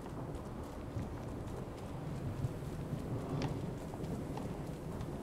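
Steady downpour of rain with a low, rolling thunder rumble in a Train Sim World 2 thunderstorm, a continuous dense wash of sound with a brief brighter crackle midway.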